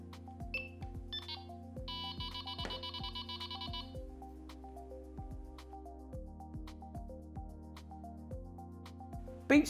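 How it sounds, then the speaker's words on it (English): Short electronic beep tones from a Delkim Txi-D digital bite alarm, several quick bleeps and a sustained warbling tone standing out over steady low background hum, with no talk. "release as soon as you hear a confirmation tone"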